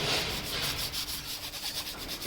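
Carbon deposits are scrubbed off the valves of a 2012 VW Polo TDI diesel engine, a close, rhythmic rasping of rapid back-and-forth strokes against metal. Nobody speaks.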